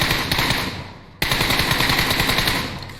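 Rapid automatic gunfire rattles in the PUBG Mobile video game, loud and close in steady bursts, briefly pausing before resuming.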